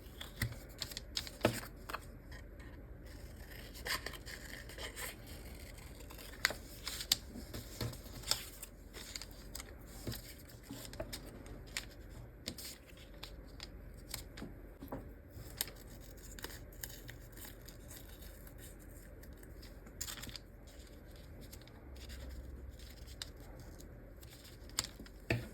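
Quiet snips and rustles of scissors cutting paper wings for a craft project, an irregular patter of small close clicks and paper handling running steadily with no talking.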